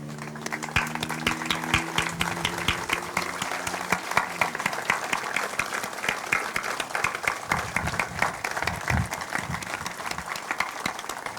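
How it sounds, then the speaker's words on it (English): A crowd at an outdoor Purple Heart ceremony in Dunedin, Florida applauds at length, a sustained wash of many clapping hands with occasional louder claps nearby. "please stand if you're able so that we may give you a big round of applause"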